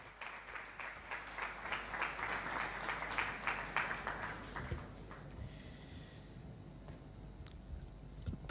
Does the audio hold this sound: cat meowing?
no